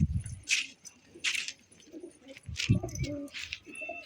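Repeated soft coos from breeder pigeons near at hand, with bursts of fluttering or rustling between them and a few brief clatters.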